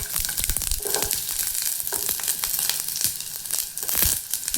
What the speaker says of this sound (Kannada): ಎಣ್ಣೆ ಬಿಸಿ ಆದಮೇಲೆ ಈರುಳ್ಳಿ ಹಾಕ್ಕೊಳತ್ತೇನೆ